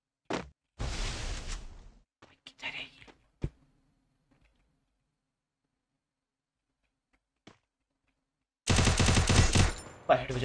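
Bursts of automatic gunfire from the shooter game Garena Free Fire, two loud sustained volleys separated by a quiet stretch with a few isolated shots and brief game noises.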